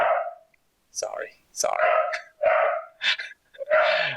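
A dog makes a series of short, close vocal bursts, sharp yelps and whiny barks in quick succession, with brief gaps between them.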